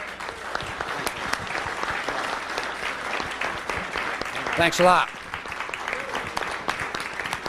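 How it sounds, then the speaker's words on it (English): An audience claps steadily for a speaker at an evening talk, a dense sustained round of applause with a man's brief spoken thanks partway through. "Let's give him a round of applause."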